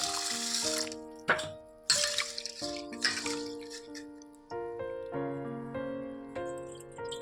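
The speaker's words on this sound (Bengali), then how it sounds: "তো চলো জল দিয়ে নিয়ে নিই।" Water poured onto Gobindobhog rice in a pot, a close, gurgling stream broken into several uneven bursts with short pauses between pours, no talking.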